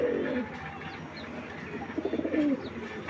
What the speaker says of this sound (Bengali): একদম অ্যাক্টিভ একটা বাঘা কবুতর